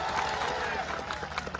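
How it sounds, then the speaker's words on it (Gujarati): Applause for police officers from a crowd at a public gathering, a steady wash of clapping that sits close and fairly loud, thinning slightly toward the end. "એમની માટે જોરદાર તાળીઓ થઈ જાય."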